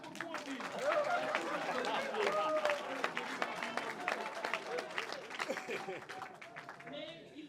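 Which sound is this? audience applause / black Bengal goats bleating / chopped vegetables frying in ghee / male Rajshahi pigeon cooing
audience applause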